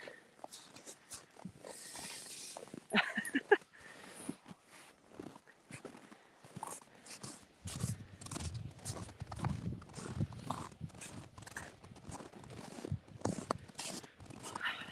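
Irregular hoof clip-clops and shuffling steps sound nearby at a slow walking pace, with scattered thuds and rustles.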